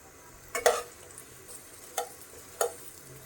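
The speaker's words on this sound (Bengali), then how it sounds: "তেল আর পেঁয়াজ দিয়ে দিলাম" Onion frying in oil for a home-style snakehead fish curry with bottle gourd: a soft, steady sizzle broken by a few sharp clacks of stirring, close by, with no talking.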